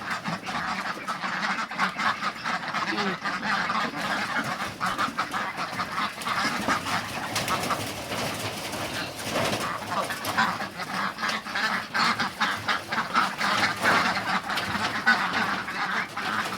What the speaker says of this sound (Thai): เลี้ยงเป็ดเออเป็ดกินดีจังเลย